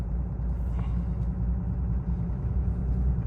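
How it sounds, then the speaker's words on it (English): A four-wheel-drive Cummins pickup on winter tires drives up a snowy hill, with a steady loud low engine rumble that continues throughout. "we'll try it again now in four-wheel drive and see if I can get up this."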